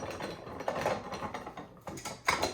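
Manual sausage stuffer pumped by hand, a series of short mechanical ratcheting clicks and creaks in an uneven rhythm, close up and fairly quiet, with no talk.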